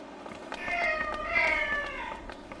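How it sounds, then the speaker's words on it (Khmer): A cat stuck up on an air-conditioner unit outdoors gives a loud, drawn-out meow with a wavering pitch, followed by a second rising cry, heard over light background noise. "អេស្ដាប់ឮទេ សំឡេងឆ្មាស្រែក"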